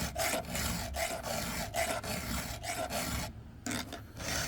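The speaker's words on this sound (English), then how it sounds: "kind of relaxing to sharpen saws in the morning" Steady rhythmic rasping of a file sharpening a chainsaw chain, repeated strokes with brief pauses between, close and fairly loud with no talking.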